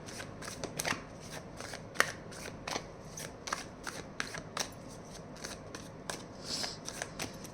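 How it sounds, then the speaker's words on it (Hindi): Tarot cards are shuffled and drawn in a quiet room, giving a series of crisp, close flicks and slides with short sharp card snaps at an irregular rhythm. "और थोड़ा देख लेती हूँ कार्ड्स निकाल कर।"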